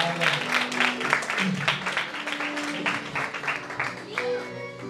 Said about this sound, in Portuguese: Mais palmas, ela está emocionada.